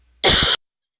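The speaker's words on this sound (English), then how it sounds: "I've decided to have a coughing fit for breakfast, I guess" A single short, harsh cough bursts out close up for about a third of a second, then silence follows.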